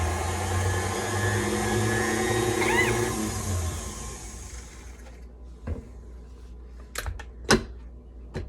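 Sourdough discard pumpkin bread batter being mixed, a steady whirring that runs for a few seconds and then cuts off, followed by scattered light clicks and taps in near quiet.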